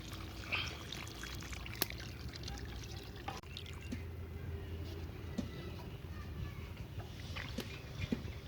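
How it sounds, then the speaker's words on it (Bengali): Water poured into a pot of goat head curry, a soft, steady trickle and splash at low volume over faint background noise. "এর মধ্যে এবার জল দিয়ে দেবো।"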